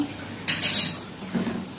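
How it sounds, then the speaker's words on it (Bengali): A utensil stirs ginger garlic paste into browned fried onions in a pan, giving a short burst of metal scraping and clinking in a quiet kitchen with no talking. "এবার এটা ভালো করে কষাবো, আবার আদা রসুনের কাঁচা গন্ধটা না যাওয়া অবধি একটু কষাবো।"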